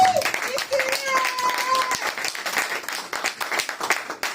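A church congregation applauds, with steady dense clapping through a worship service. Voices call and cheer over the applause.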